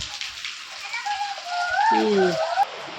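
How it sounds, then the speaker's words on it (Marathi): Heavy monsoon rain pours onto a porch in a steady, close hiss of drops, while people talk over it. "मुसळधार पाऊस आहे का नाही"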